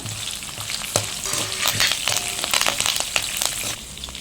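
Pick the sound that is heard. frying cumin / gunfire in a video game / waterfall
frying cumin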